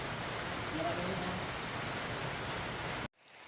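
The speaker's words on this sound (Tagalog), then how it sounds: "sobrang lakas ng ulan dito sa Pangasinan" Steady, dense hiss of heavy rain in Pangasinan pouring continuously, loud and close, cutting off abruptly near the end into a much quieter wash.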